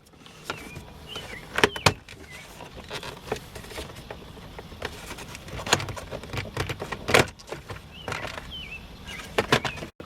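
Plastic clips of a car interior trim panel being pulled free during a fog light install: a series of sharp, close snaps and clicks with light rattling, scattered unevenly over steady quiet background.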